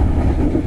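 Passenger train rolling along rails, heard from the rearmost carriage, number 1, on a journey through green rice fields; a steady, loud, low rumble continues throughout without talk.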